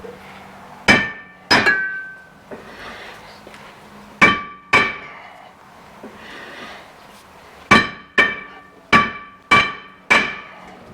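Metal hammer strikes on a Jeep brake caliper ring out in sharp clanging hits, spaced in pairs and then a quicker run of five, each with a bright metallic ring, close and loud in a quiet garage.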